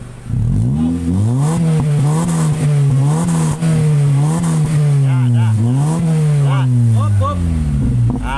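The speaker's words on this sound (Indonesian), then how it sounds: "Setelah knalpot standar udah dipotong, saatnya kita cek sound ya satu persatu" A 2012 Honda City engine revs hard again and again through a loud, throaty aftermarket exhaust muffler, its pitch climbing and dropping in quick bursts, close and continuous.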